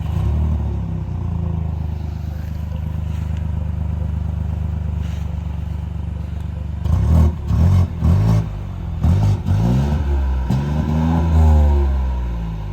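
A 2020 Mini Cooper Countryman idles with a steady hum before its engine is blipped in several short, loud revs that rise and fall, then settles near the end.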